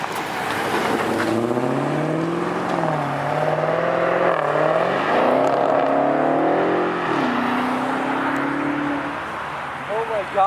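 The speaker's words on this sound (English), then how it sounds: "Come on, let's hear a Hellcat!" A Hellcat engine revving at an outdoor car show, with several rising and falling roars that climb in pitch and hang at high revs, loud and close, while people talk and cheer nearby.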